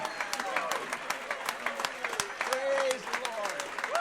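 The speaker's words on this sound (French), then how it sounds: "Donnons-lui une bonne main d'applaudissement." A church congregation claps in a steady crowd applause that lasts the whole stretch, with voices and a rising tone heard over the clapping.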